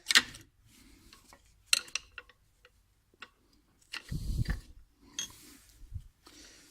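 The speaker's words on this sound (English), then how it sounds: "you want to just give it a little bit of a gentle tap right there" A worn front brake pad is gently tapped loose from its caliper on a BMW E60/E61 5 Series. A few sharp, irregular metallic taps and knocks come close by, separated by quiet gaps.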